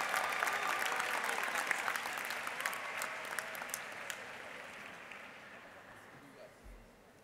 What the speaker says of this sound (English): Let's give a round of applause to our Executive Master of Leadership graduates